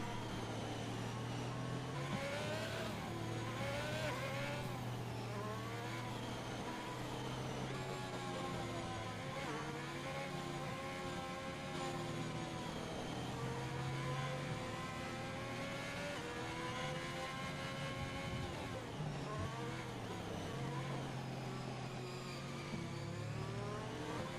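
Formula One race cars in the F1 2021 video game run behind the safety car, engines droning steadily with repeated rising and falling rev sweeps, loud and continuous with no voices.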